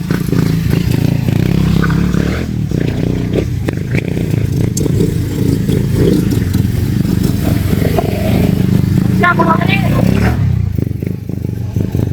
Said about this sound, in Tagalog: Dami pala mga motor mga kabayan.